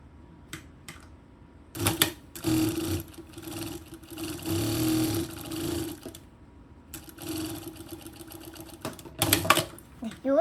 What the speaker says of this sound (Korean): 요렇게 지금 박음질이 됐고요